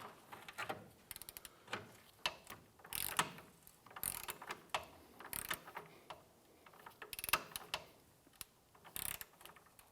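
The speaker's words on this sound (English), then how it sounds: "Let's go ahead and torque down our bolt here to 111 foot-pounds." Wrench ratcheting while torquing a suspension control arm bolt on a 2005-2007 Ford 500, a series of close, quiet mechanical clicks in irregular bursts with brief pauses.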